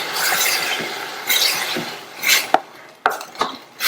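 Metal scraping and clinking of a spoon against a pot in short strokes, close and fairly loud, with no talking.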